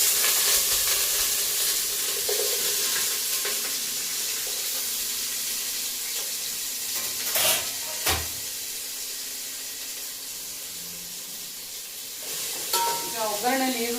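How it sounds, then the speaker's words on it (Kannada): Onions sizzle in hot tempering oil, a constant bright frying hiss with occasional stirring clatters and a short splash of running water near the end. "ಒಗ್ಗರಣೆಯಲ್ಲಿ ಈರುಳ್ಳಿ ಬೇಯ್ತಾ ಇದೆ"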